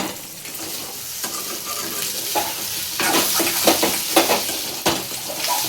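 Egg bhurji is stirred and sautéed in a pan over a medium flame until dry: a continuous oily sizzle broken by spatula scrapes and clinks, growing busier and louder in the second half.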